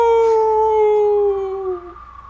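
People imitate a howl with their voices, a loud sustained wavering cry that slowly falls in pitch and then fades away.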